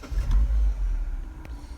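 A 2012 Mini Cooper starting up, a short burst of engine noise that rises to a strong low rumble and then settles into a steady idle close by.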